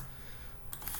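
Keys clatter on a computer keyboard as a PowerShell command is typed. A short, quiet burst of close clicks comes toward the end of the moment.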